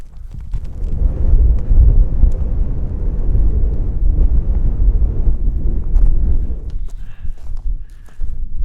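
Strong wind on a 2,200 m mountain pass in Kosovo buffeting a tent, a loud continuous roar and rumble that surges and eases, with a few faint higher tones late on.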